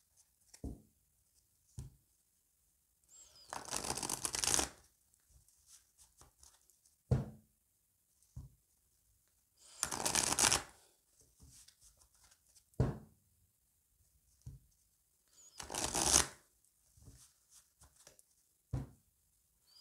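Oracle cards from the Lune de Jupiter deck being shuffled in short bursts, three main riffling passes with soft taps and handling noises between them, close and quiet with no voice.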